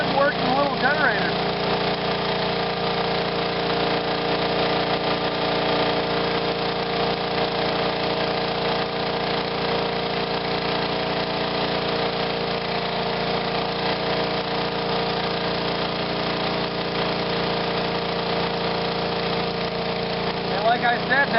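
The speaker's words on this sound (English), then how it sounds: "It's just a really good working little generator." A 1954 Kohler 1.5M25 generator engine runs at a steady idle, a constant mid-pitched drone with even throbbing that continues unchanged throughout.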